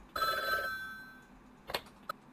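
Phone in the Talking Bella video game ringing quietly, a short electronic trill at first that fades out, followed by a couple of faint brief clicks, with no talking.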